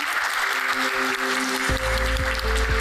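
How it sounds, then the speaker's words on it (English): An audience at a mobile security roundtable applauds the panelists, a steady wash of clapping across the room, with a low hum running underneath. "let's give a good round of applause for our panelists"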